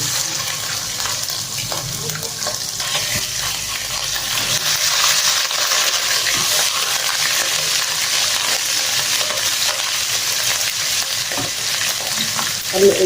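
Garlic ginger paste frying in a pan for aloo palak, giving a loud, continuous close sizzle with occasional stirring scrapes, with no voices.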